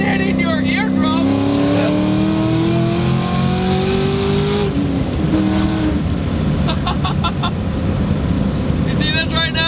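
A 700 horsepower Terminator Cobra engine revs hard while driving, pitch climbing through a gear then dropping and rising again, loud and close inside the car with someone talking over it.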